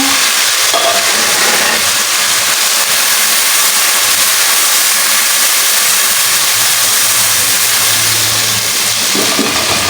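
Garlic and green chili paste with tomato sizzles in a hot pan, a loud, steady hiss filling the whole stretch with no talk.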